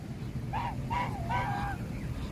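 Egyptian geese honk outdoors on a downtown Orlando, Florida street: three nasal honks in quick succession, moderately close, over a steady wash of city background noise.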